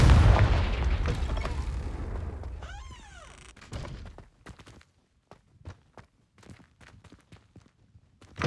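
Confringo fire spell blasting in Hogwarts Legacy, a loud booming explosion that rumbles and fades over a few seconds, followed by scattered soft thuds and footsteps.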